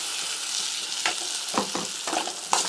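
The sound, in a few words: sautéing ground paste with tomatoes in a pan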